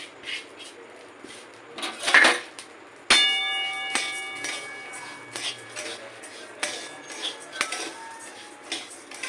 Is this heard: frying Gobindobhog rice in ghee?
yes